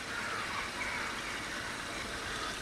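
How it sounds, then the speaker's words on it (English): Steady broadband water gush as a basket holding frogspawn is lowered into pond water, a continuous close splashing wash with no distinct individual splashes. "put the basket with the fox spawn in into the water like this"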